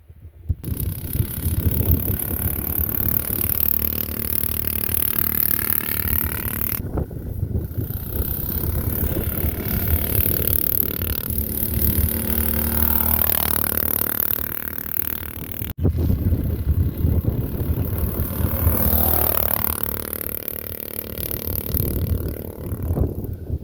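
A mini bike engine with a modified exhaust runs loud and steady near the microphone, its tone rising and falling in several surges across the clip with some wind buffeting and no talk.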